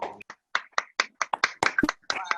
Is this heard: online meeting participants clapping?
yes